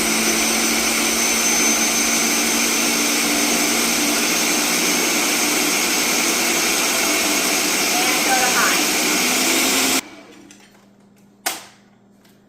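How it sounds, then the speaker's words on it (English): A Ninja blender making apple cider roars loudly and steadily for about ten seconds, then cuts off, leaving a quiet room with a brief knock and a few spoken words. "the blender ran for a little more than a minute"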